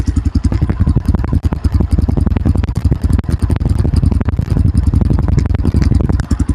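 A loud TEKKEN Discovery 300 motorcycle engine, a 2025 model, idles roughly close by, its exhaust popping and banging in a rapid, irregular stutter.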